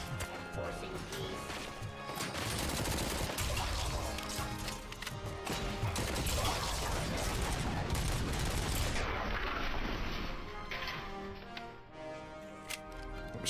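Rapid gunfire rattles through the RoboCop video game, dense bursts of shots and impacts piling up across the stretch, with game dialogue spoken over the shooting.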